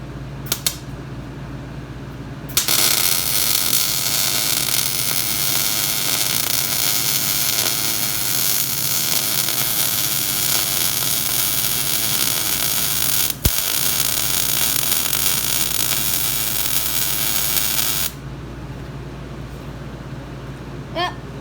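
Arc welding around a pipe: a steady, loud crackling buzz starts abruptly, holds for about fifteen seconds with one brief sharp snap midway, then cuts off into quieter background hum.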